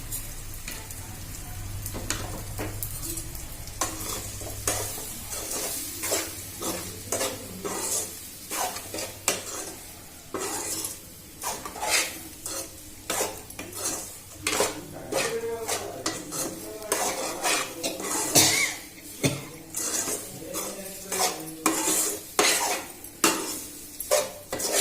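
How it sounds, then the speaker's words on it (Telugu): A spoon scrapes and knocks steadily against a pan while leftover roti upma is stirred over gentle sizzling heat, a close, rhythmic run of clinks and scrapes continuing throughout. "బాగా కలుపుకోవాలి."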